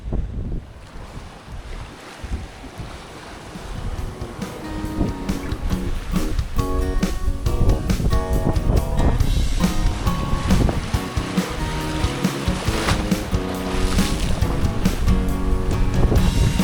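Sailboat riding squall winds and big waves in a storm at sea, a loud, continuous roar of wind buffeting the microphone over rushing water and hull noise, building up after a quieter start, with no talk.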